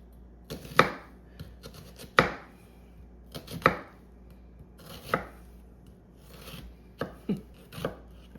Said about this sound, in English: Then all I have to do is keep my fingers bent, go down and slice.